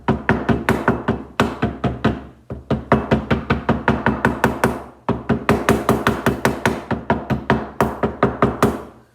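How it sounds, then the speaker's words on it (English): Repeated hammer blows on a metal can lid with a rag laid over it, steady rapid strikes in several bursts with brief pauses, loud and close, no talking. "Hammer that in place."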